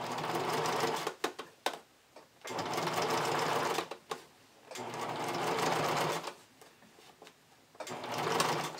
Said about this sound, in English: So I'm stitching along this loose edge.